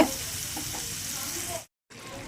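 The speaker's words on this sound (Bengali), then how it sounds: "এবার ঝোলটা একটু ফুটতে দেব" Mustard gravy with parshe fish bubbles and sizzles in a pan, a close steady frying hiss that cuts out briefly near the end before resuming.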